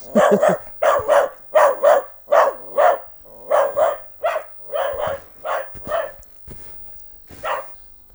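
A dog barks repeatedly near a backyard fence in the quiet after a storm, giving a steady run of loud, close barks in pairs and singles that taper off toward the end. No one speaks.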